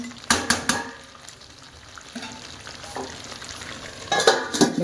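Mutton curry with potatoes stir-fried in a pot in village style, with sharp metallic scrapes and clanks of a spatula in bursts over a low, steady sizzle, up close.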